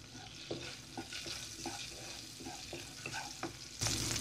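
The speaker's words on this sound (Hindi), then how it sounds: "1 से 2 मिनट हम इसको फ्राई करेंगे।" Spices such as pomegranate seeds and red chili fried in a spoonful of ghee over medium heat for a samosa filling: a soft continuous sizzle with repeated scraping stirs of a spoon in the pan, close and unhurried, with no talk.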